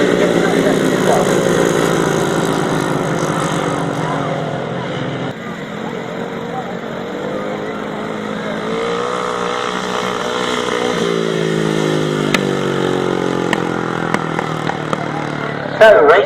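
Several 500cc sidecar motorcycles race on a grasstrack, their engines making a sustained buzzing roar that rises and falls as they pass at a distance, with a commentator talking over the noise.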